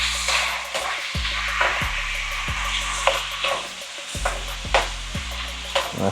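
Stew chicken in a hot pot sizzles under repeated stirring, with a steady frying hiss broken by regular scraping strokes and soft knocks against the pot.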